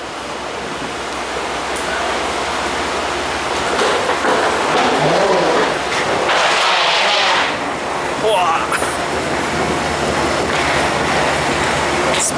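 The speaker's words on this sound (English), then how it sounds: "It's pouring." Heavy pouring rain outdoors on a windy evening, a steady broadband wash of downpour with a denser gust in the middle, loud and continuous throughout.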